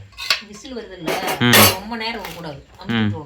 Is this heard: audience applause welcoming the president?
no